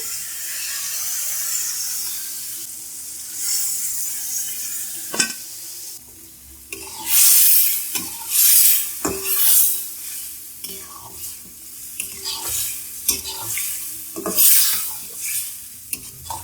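Boiled beef with cumin and spices stir-fried for a karahi: a steady close sizzle with bursts of louder hissing and repeated scraping stir strokes against the pan.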